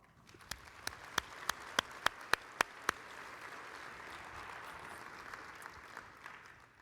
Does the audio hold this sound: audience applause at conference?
yes